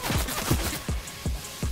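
Several sharp gunshots ring out in an online shooter game, spaced irregularly over a short stretch, loud and close against a steady rumbling background with no talk.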